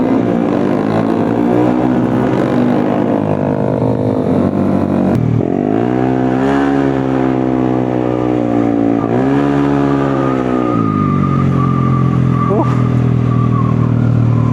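A modified police motorcycle engine revs loudly and up close, the pitch rising and falling in several long swells with a brief drop near the middle, a continuous throaty roar with faint voices underneath.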